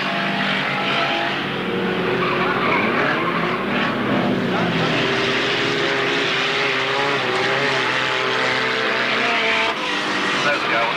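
Race cars at a stock car meeting at Alwalton roar along the start straight, a loud steady engine drone with shifting pitch as they pass, under continuous trackside commentary.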